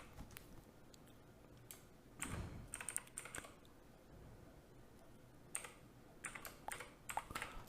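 Keys click on a computer keyboard as someone types a website demo. The uneven, faint bursts of tapping play over a steady background hiss.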